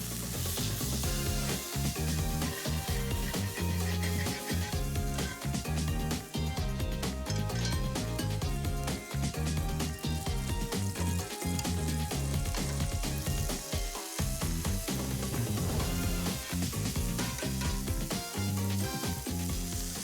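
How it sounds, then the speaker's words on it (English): Meat searing in a hot pan, a loud, steady sizzle and crackle that runs without a break for the whole stretch, close up, with no voices. "we're gonna wait a little bit for all the first bunch of meat to get all seared"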